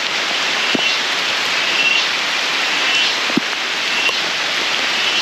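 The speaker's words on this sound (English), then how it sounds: "Dense jungle and it's raining heavily." Heavy rain pours on dense jungle near the Chorla Ghat on the Goa–Maharashtra border, a continuous loud hiss with a few scattered close drips and taps, and no voices.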